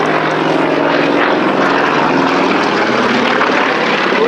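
Soviet-built propeller trainer aircraft, originally designed to train fighter pilots, flying at an airshow, a steady loud engine drone with propeller buzz that holds constant throughout, with no voices.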